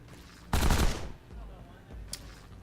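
Automatic weapon fire in the video game Sword of the Stars: The Pit, a loud half-second burst followed by a quieter low rumble and a second short sharp shot.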